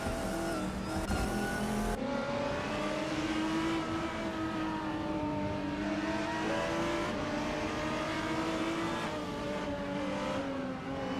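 GTR race cars lapping Mugello in a racing video game, engines droning steadily at high revs with shifting pitch as cars pass, occasional tire squeal, continuous and fairly loud throughout.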